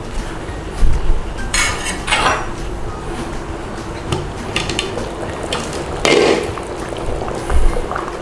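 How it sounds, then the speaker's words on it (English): A lid goes onto a pot of turkey chili on the stove, with a few close metallic clanks and clinks of pot and utensils over a low background hiss, and no talking. "So let's put a lid on."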